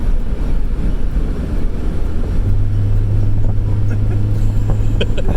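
A Suzuki X90 engine strains under load while driving, a loud continuous low drone with a rising whine joining midway and some road noise, no speech.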